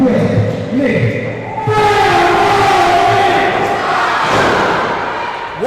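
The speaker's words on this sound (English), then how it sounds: "Stand, scream it, like you've never done before, and cheer with me." Crowd at a New Level Pro Wrestling show cheering and screaming loudly and continuously, a dense roar of many voices with shouts rising and swelling throughout, close and full.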